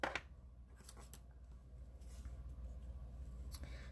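Scissors snip through card stock in a few quick, quiet cuts, close by in a calm crafting setting.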